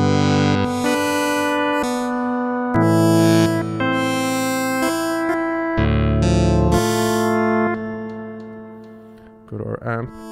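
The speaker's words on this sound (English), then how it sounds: "I can add a bit of reverb." A Waldorf Blofeld synthesizer plays a glassy, reverb-washed patch with pulse width modulation from an LFO, loud sustained chords changing every second or two, each tail ringing on and fading near the end.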